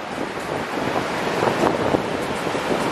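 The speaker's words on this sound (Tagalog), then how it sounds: "Kung may day kayo sa surfing, okay dito, lakas ng alon." Strong ocean surf at Seminyak beach in Bali, a steady broadband wash of breaking waves mixed with wind buffeting the microphone, continuous and fairly loud with no talking.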